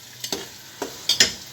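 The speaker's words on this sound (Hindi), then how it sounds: "उसके बाद हम टमाटर और इसको प्याज को भूनने दें।" Onions frying in a pan for chicken biryani with potatoes, heard as a faint steady sizzle broken by a few short scraping stirs of a spoon, no voices.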